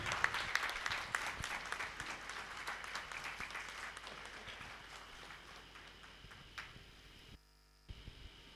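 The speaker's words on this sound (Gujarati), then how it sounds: "આપણે બધા તાળીઓથી વધાવીએ." Dense, sustained applause from a hall audience at an Indian Red Cross Society event in Veraval, loud and steady for about seven seconds, then thinning and briefly cutting out near the end.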